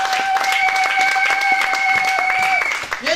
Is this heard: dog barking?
no